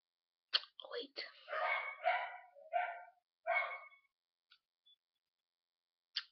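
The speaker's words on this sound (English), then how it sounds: "You can hear my dog." A small dog barks and yips in a quick burst of several sharp barks indoors, fairly close, then falls quiet with a couple of faint sounds afterward.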